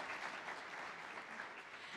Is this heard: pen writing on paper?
no